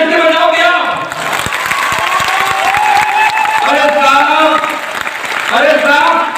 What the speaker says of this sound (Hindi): तो हाँ मैं तो तालियां ऐसे बजाओ क्या?